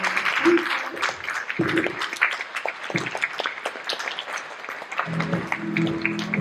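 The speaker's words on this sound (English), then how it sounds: "Let's give the guys a round of applause" An audience claps in a steady patter throughout, with voices talking over the applause.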